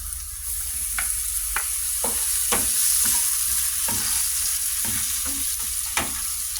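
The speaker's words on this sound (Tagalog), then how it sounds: "Gisahin na natin yung luya." Ginger sautéing in a frying pan while cooking milkfish in black beans, a steady close sizzle broken by sharp spatula scrapes and stirring clacks at a loose, uneven rhythm.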